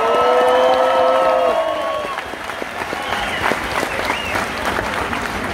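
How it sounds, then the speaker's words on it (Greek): Loud applause and cheering rise from the audience at a live rap concert in Thessaloniki, Greece, following a fading sustained tone, with dense clapping continuing and some shouted voices mixed in. "Και ένα μεγάλο χειροκρότημα για όλους εσάς που είστε εδώ και μας στηρίζετε τόσα χρόνια."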